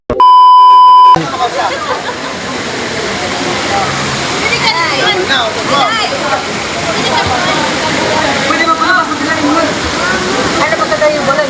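A small waterfall flows steadily at a hot spring resort, a loud continuous rushing splash that fills the scene after a brief electronic beep at the start.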